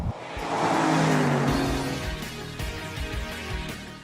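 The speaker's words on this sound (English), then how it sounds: "this is my Ford Mustang GT Bullitt Edition" A stock Ford Mustang GT Bullitt Edition engine revs up with a rising growl, peaks, then settles into a rough, throaty idle with a few smaller blips, close by.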